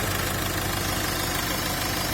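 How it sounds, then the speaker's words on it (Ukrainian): A 2018 Renault Master van's diesel engine idles steadily close by, a constant low rumbling chug with a dense, unchanging roar and no voices. "дивіться, як працює мотор"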